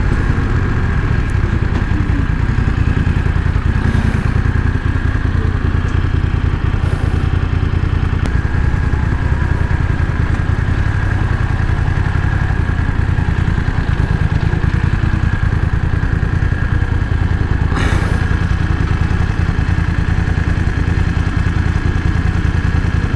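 A BMW F900XR motorcycle's exhaust drones continuously while riding, heard from a helmet-mounted mic, with a steady engine hum and heavy wind buffeting throughout.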